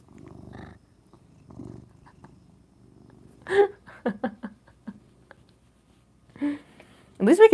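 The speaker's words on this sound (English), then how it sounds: "He just purred to the mic." A pet cat purrs in short, soft bursts right up close to a microphone. Quiet talk and breathing come between the purrs, and a few sharper bumps are louder.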